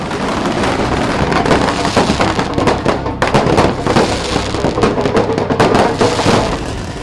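Fireworks and firecrackers at a celebration in Bhopal, a loud continuous barrage of crackling bursts and pops with a few heavier bangs, dense and close.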